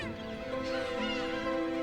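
Gulls calling steadily, a mix of nasal cries overlapping continuously, fairly loud and close with no talking.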